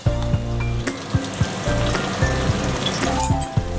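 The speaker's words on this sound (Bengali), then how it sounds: "আলুটাতে একটু লবণ দিয়ে আমি ভেজে নেব।" Salted potato pieces fry in oil for a Bengali vegetarian dish, giving a close, steady crackling sizzle dotted with small pops and a faint low hum, with no one speaking.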